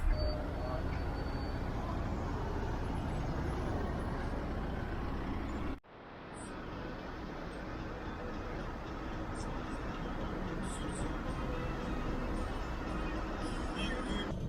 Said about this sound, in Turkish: Şu an bayağı araba var.